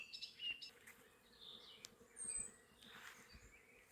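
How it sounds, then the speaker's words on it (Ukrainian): A faint, low buzzing of bees drifting around outdoors in May near the Dnipro at Cherkasy, Ukraine, soft and continuous with occasional closer passes and a few distant bird chirps. "Бджолки гудуть, несуть медок."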